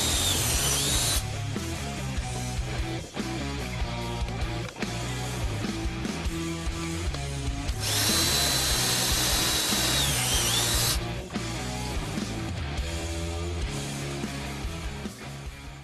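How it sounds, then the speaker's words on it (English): Power drill boring a 1/4-inch hole through the center rib of a Ford F150 during a Flex-a-Lite electric fan install, running steadily loud for about fifteen seconds with pitch shifts as the bit bites and frees up. "we're going to drill a 1/4-inch hole right here in order to fish these down through there"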